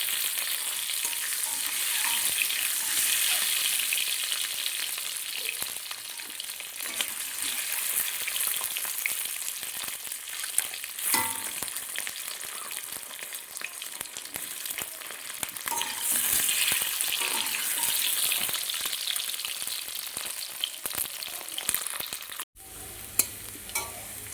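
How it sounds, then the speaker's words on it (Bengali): Eggs sizzle and crackle in hot oil in a home kitchen pan, a steady bright frying hiss with occasional stirring scrapes, close and continuous for about twenty seconds before a brief clunk near the end. "ডিম দিয়ে আগে ভাজা নিই।"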